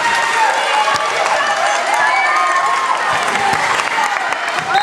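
A loud, packed volleyball crowd roars and cheers without pause, a dense wall of shouting and clapping with individual voices rising out of the din.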